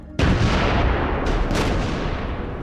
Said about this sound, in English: Now they're shooting at us. Artillery. Right, I see artillery going in now.